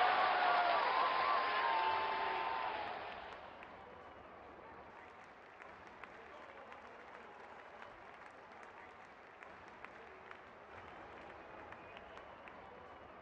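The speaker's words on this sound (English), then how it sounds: "Crowd is going crazy." A cricket video game crowd cheers and applauds loudly for about three seconds, then drops to a low, distant murmur of background crowd with scattered faint claps.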